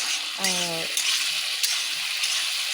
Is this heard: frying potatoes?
yes